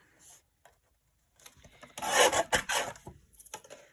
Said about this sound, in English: So I'll just trim this off.